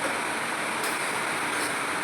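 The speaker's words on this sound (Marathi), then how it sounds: "पत्र्यावर पावसाचा आवाज येत आहे" Heavy rain pours onto a tin roof above a home kitchen, a constant broadband rush with no pauses or voices.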